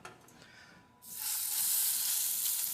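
A halibut fillet laid top side down into an oiled non-stick pan, quiet at first, then a sudden loud sizzle bursts up and holds steady and close.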